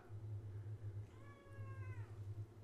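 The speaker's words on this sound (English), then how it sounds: "You hear that shit? My cat is crying because of you, Lsrp." A pet cat meows in a long, drawn-out plaintive cry near the middle, close and clear, over a steady low electrical hum that runs throughout.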